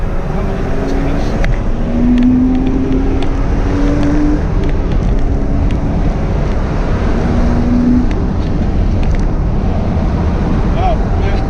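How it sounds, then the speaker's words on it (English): A Porsche Boxster's flat-six engine with standard exhaust drones steadily from inside the moving car, its tone rising and falling with the throttle under road and wind noise, while people talk over it. "it's a standard exhaust. And hearing that flat six engine though is just"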